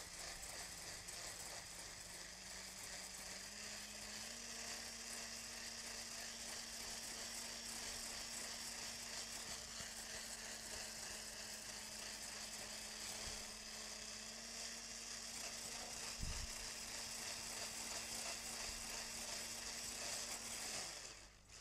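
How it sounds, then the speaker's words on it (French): A hand mixer whisks a small quantity in a bowl in a kitchen, giving a steady, buzzing motor whir with a rattling edge, its pitch rising slightly early on and staying constant until it cuts off. "je vais vraiment privilégier le batteur manuel qui me permet de bien aller au fond et d'être sûr de tout fouetter correctement"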